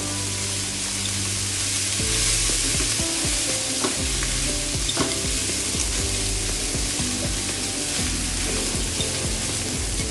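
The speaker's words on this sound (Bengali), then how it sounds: "দিচ্ছি রসুন কুচি রসুন কুচিটা কোনোভাবেই আগে দেয়া যাবে না তাহলে জিনিসটা পুড়ে যাবে" Minced garlic frying in a pan for baked pasta, a continuous loud sizzle with scraping stirs and small clicks of a utensil, no voices.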